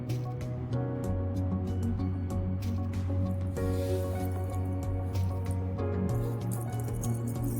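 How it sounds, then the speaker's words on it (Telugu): Spiced okra batter is worked with a little water into a paste, giving close, steady wet squishing and squelching with soft drips over a constant tonal hum, and no voices. "తర్వాత వచ్చి కొంచెం కొంచెం వాటర్ పోసుకొని కొంచెం పేస్ట్లా కలుపుకోవాలి."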